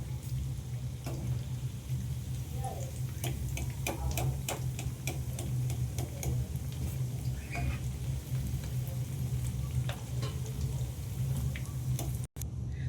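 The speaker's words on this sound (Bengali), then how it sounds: "মিডিয়াম আঁচে লাল লাল করে আমি পেঁয়াজগুলো ভেজে নিচ্ছি।" Onions deep-fry in oil over medium heat for chicken pakoras, a steady close bubbling sizzle with occasional light ticks and stirring clatter running throughout.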